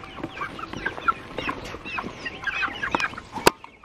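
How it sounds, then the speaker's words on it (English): Meat chickens on a homestead cluck and squawk while being fed bread, a busy, close flock chatter with overlapping short calls and one sharp louder squawk near the end. "Get some of this, the meat chickens."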